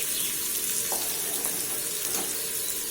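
Boiled mashed potatoes are stirred into lightly fried onions in a pan, giving a steady sizzle with soft scraping stir sounds and no talking.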